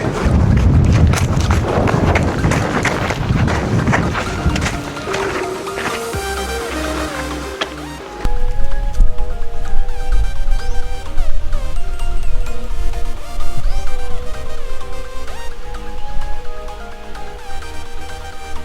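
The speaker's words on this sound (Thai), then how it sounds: "ตอนนี้ลมบนแรงดีครับ" Strong wind buffets the microphone outdoors while a small two-compartment kite about 120 cm long is flown, a loud continuous rumbling roar that shifts and surges partway through.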